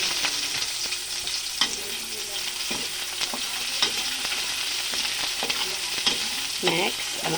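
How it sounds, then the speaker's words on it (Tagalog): Chopped onion added to golden-browned garlic fries in a hot pan, a steady close sizzle broken by scraping stir strokes and a few sharp utensil clicks against the pan, with no talking. "Ilagay na natin ang ating sibuyas."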